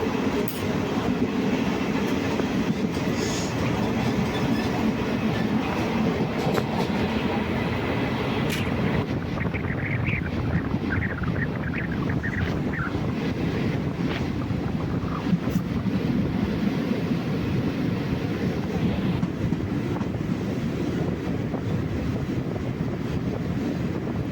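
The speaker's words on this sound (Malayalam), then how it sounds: "നമ്മുടെ ട്രെയിൻ ഇപ്പോൾ പാലക്കാട് ഭാഗത്തേക്കായി വരുന്നുണ്ട്" The KSR Bengaluru InterCity SF Express runs toward Palakkad with a continuous rumble of wheels and carriages, mixed with heavy wind noise rushing past throughout.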